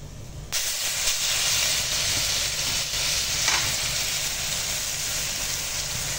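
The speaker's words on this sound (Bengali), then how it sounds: "এবার দিয়ে দেবো এই যে এই গ্রেট করে রাখা আম" Grated mango hitting hot oil tempered with mustard seeds and dried red chilli, bursting into a loud, steady sizzle that starts abruptly and continues close up without letting up.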